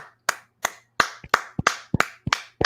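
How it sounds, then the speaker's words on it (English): A few people clapping on a talk show, sparse and uneven, roughly a dozen distinct sharp claps at irregular intervals, close and fairly quiet with no talk over them. "we are applauding you"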